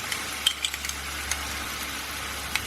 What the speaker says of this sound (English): give that all a good mix through, making sure it coats everything.